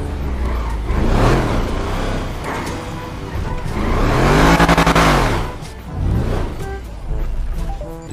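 In GTA V, a car's engine roars close by through repeated revving swells and pitch sweeps as it drives and drifts, with tire squeal mixed in under the loud, continuous engine noise.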